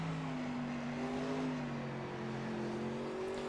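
A 410 winged dirt sprint car engine in iRacing at Lernerville, a loud continuous engine drone with steady tones that shift slightly as the throttle eases off and back on, with no voices.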